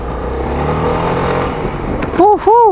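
A SYM ADXTG 400 scooter engine drones and pulls hard on a ride, rising in pitch, with wind rush, and at the end two loud rising-and-falling electronic tones ring out over it.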